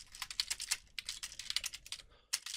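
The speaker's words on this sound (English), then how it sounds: "So you just literally just type a subject line in here" Quick bursts of typing on a computer keyboard, keys pattering in uneven runs with short pauses, quiet and close with no voices.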